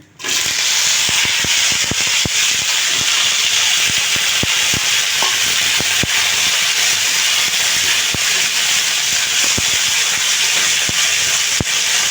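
Okra dropped into a hot pan with oil bursts into a loud, steady, hissing sizzle that holds at full strength to the end, broken by small sharp pops and crackles.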